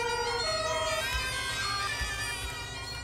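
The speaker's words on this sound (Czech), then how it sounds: "Vypnu tu sirénu s dovolením." An emergency vehicle siren in Farming Simulator 22, on a firefighting mission, wails steadily with rising and falling tones over a low engine rumble, loud and continuous throughout.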